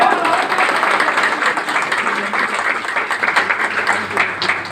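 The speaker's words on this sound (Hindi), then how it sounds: "जोरदार तालियां।" A loud round of applause fills a business seminar hall, dense clapping from many hands close and sustained throughout, with a slight rise and fall in intensity.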